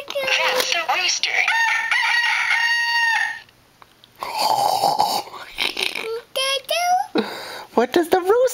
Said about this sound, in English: That's the rooster.